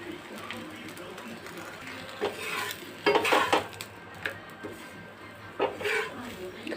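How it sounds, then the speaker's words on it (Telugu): A carrot and wheat paratha is laid on an oiled pan over low heat, with a soft sizzle and a few scrapes and clinks of a utensil. A voice speaks over it. "అది ఇప్పుడు దీని మీద వేసుకుందాం సన్నటి సెగ మీద కాల్చుకుందాం"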